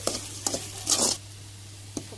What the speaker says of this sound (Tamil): ஆட் பண்ணி இதை நல்லா வதக்கிடலாம்